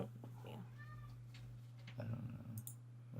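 A house cat meows once or twice in a brief, gliding call, fairly faint and set back behind a steady low hum and some overlapping conversation.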